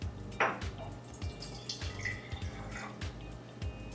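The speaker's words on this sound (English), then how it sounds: "the first thing I'm going to do is put in 1/4 vinegar" Vinegar poured into a measuring cup in a kitchen for an oregano vinaigrette, soft splashing and dripping liquid with faint clinks, close and quiet with no talk.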